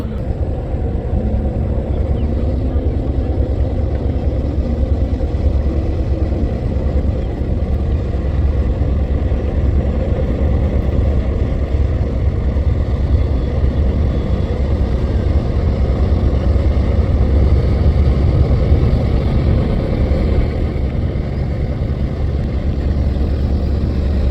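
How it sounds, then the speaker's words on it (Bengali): The passenger river launch Kuakata 1, travelling on the Lohalia River from Patuakhali to Dhaka, drones with a heavy, steady engine rumble that stays loud and unbroken throughout, with no talk. "পটুয়াখালী থেকে ঢাকা যাচ্ছে কুয়াকাটা এক লঞ্চ"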